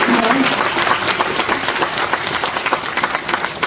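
Audience applause at a governor's New Year visit lecture in Jinan county, a dense steady patter of clapping from a hall crowd, continuous and fairly loud throughout.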